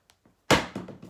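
A bell dropping onto a wooden floorboard: a single sharp, close thud with a short, dull decay, alone.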